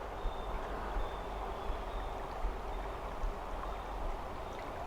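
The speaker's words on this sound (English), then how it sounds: "I hear crickets and a little bit of the water running right there." A nature park stream gives a faint, steady wash of running water throughout, with no voices, only soft outdoor ambience and a light high insect-like tone.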